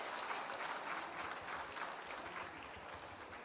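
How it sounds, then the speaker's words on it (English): A convocation audience applauds the chief guest, a minister, in a steady, even wash of clapping heard from a distance, with no voice above it. "Let's all give him a big round of applause once more."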